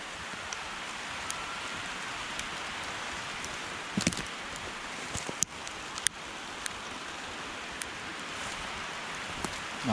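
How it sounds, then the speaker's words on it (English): Light rain beginning to fall on a forest wild camp in Harwood Forest during Storm Ciara, a soft steady hiss of drops on leaves and tarp with occasional sharper close taps and rustles. "And there's the rain starting."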